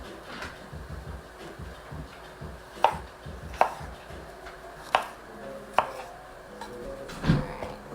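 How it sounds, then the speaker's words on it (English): A knife chops mushrooms into pieces on a cutting board in a home kitchen, with five or six distinct, evenly spaced cuts over a soft background hiss from a cooktop. "I'm just gonna cut them into pieces, right?"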